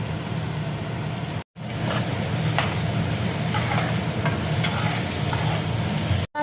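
Asafoetida drops into hot tempering oil, giving a loud, dense, continuous sizzle with crackling spatter, close up and steady, broken by two brief cuts to silence.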